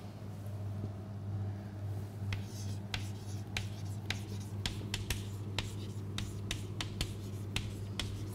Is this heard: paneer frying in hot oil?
no